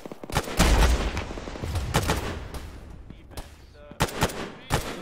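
Gunfire in the Arma military video game: a rapid series of sharp, loud shots with irregular spacing, firing in bursts across the whole stretch, with no voices.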